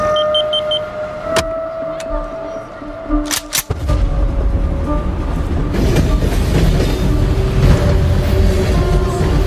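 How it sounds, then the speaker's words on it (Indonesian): A train pulls into a station: a few sharp metallic clanks and a faint steady hum give way to a loud, sustained rumbling roar that fills the rest of the stretch. "Ketika kereta tiba di stasiun tujuan"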